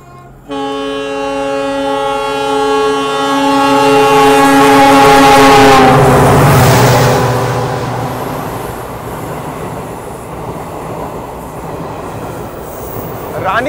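A train runs along the Jaisalmer railway line toward Ramdevra. A loud, close rumble of wheels and carriages swells and then eases, beginning with a strong sustained tonal whine that gradually fades.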